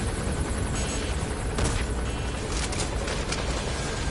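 Helicopter in the Metal Gear video game, a dense loud roar of rotor and engine noise running throughout, with sharp bursts like gunfire and booms cutting through midway.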